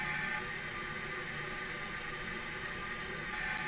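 A steady broadband hiss of a suspended metal plate driven by a shaker, with damping material applied, duller and less ringing, continuous throughout with no voices.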